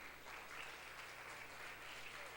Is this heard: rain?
no